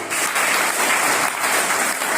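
School students applauding together for a house group at a government higher secondary school assembly, a dense, steady burst of many hands clapping throughout with no talk over it.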